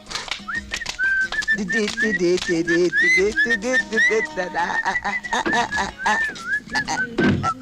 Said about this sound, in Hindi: सीटी बज गई, सीटी बज गई, आ रहा हूँ